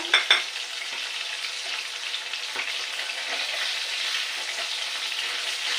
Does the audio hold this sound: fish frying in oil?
yes